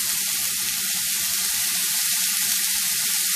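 Tofu noodles sauté in a hot pan with a loud, continuous sizzle and crackle of oil, steady and close throughout, with no talking.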